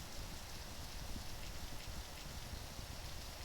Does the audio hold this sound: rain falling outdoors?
yes